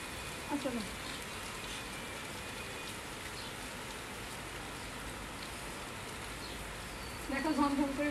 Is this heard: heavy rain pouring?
yes